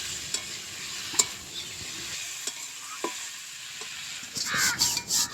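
A vegetarian vegetable curry with ginger-cumin paste sizzles softly in a pan while a spoon scrapes and taps at intervals, getting louder near the end; a crow caws faintly in the background.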